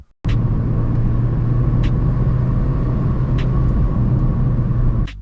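Mazda MX-5 Miata NC sports car engine heard from inside while driving, a steady, loud low drone that holds constant for about five seconds with a few faint clicks over it.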